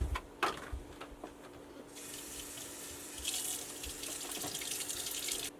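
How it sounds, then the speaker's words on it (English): Cold tap water runs into a sink while rosemary is rinsed, starting after a few soft knocks and handling clicks, then a steady close splashing hiss that grows a little fuller and continues to the end. "I'm gonna rinse it with cold water."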